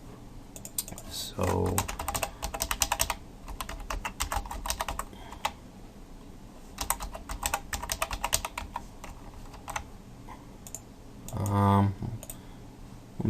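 A password is typed on a computer keyboard in quick bursts of close, crisp key clicks with short pauses between them, and a voice is heard briefly.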